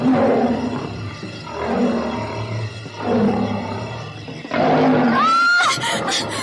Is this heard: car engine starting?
no